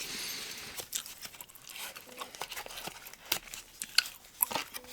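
Someone chews gum up close with soft, irregular wet smacks and crunchy bites in an ASMR-style recording, without any talking.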